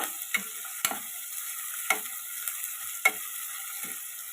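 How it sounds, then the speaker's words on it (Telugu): Mutton and fenugreek leaves frying in a pan, a soft continuous sizzle broken by a handful of sharp stirring scrapes and taps at irregular intervals, close and fairly quiet, with no speech. "మటన్ వేసినాక ఇప్పుడు మెంతుల కూర కూడా వేసేయాలి"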